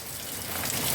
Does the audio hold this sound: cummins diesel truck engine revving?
no